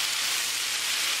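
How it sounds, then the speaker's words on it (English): Beef tenderloin stir-frying over a high flame gives a continuous, even hiss and sizzle, close and moderately loud, with no voices over it. "I'm still cooking on a high flame."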